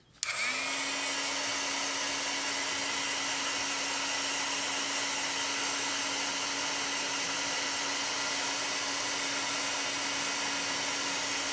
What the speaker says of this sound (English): And we're just gonna dry this with the heat gun.